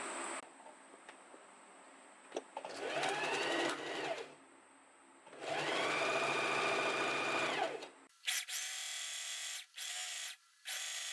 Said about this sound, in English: now we're gonna stitch quite close to the edge, just along here